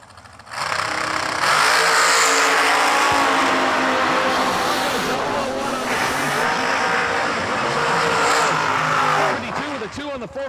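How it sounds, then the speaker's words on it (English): Dragsters at a drag race roar loudly and continuously for about nine seconds, with a harsh sustained engine blast that fades out at the end, followed by a brief voice. "Kentucky-based dragster right side."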